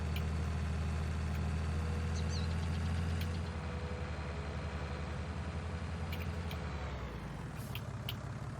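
Tractor engine running in Farming Simulator 19, a steady low drone that eases slightly partway through, with a few faint clicks on top.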